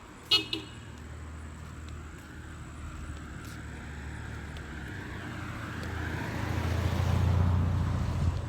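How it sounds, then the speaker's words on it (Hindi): A car horn sounds in a short double toot near the start, followed by steady traffic and road noise that swells into a louder engine rumble toward the end. "भाई ने इतनी जोर से हॉर्न बजाया"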